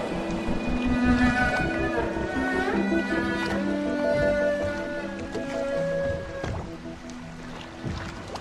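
A boat glides over water in the video game Dishonored amid a layered musical score with sustained tones, the water movement soft and steady beneath the music.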